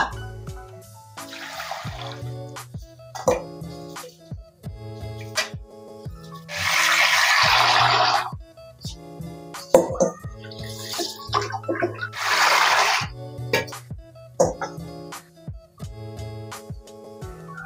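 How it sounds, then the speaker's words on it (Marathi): Rice being washed: water splashing and swishing in bursts between sharp clinks and knocks of a vessel, with running water pouring in twice; close and moderately loud. "तर आपण आता तांदूळ 3-4 पाण्याने चांगले स्वच्छ धुवून घेऊया।"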